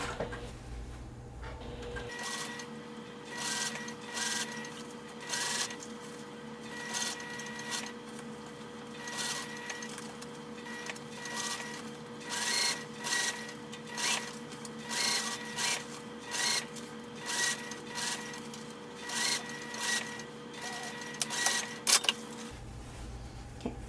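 A sewing machine stitching a fabric casing on a small pouch: a steady, close mechanical whir with rhythmic pulsing bursts that run continuously for most of the stretch, then stop briefly.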